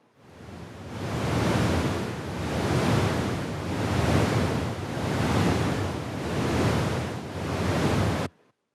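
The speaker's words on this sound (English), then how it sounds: "just a simple brown noise, or also known as red noise generator, adds just a little bit of extra character to the vehicle driving experience in the game" Brown noise generator layer for vehicle driving in the Just Cause 4 video game: a steady deep rushing hiss that swells and recedes in slow, regular waves, alone and loud, then cuts off abruptly.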